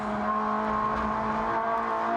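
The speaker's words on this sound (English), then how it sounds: "Pushing the car and pushing the brakes as hard as he possibly can." A race car is driven hard onboard at the Sochi circuit during a Coppa Shell round, a steady loud engine drone with a strong tonal hum holding constant throughout, no voices.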